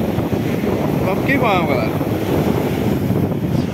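Strong wind buffets the microphone on a beach during surf fishing, with waves and wind roaring steadily under a voice and brief faint bird-like chirps.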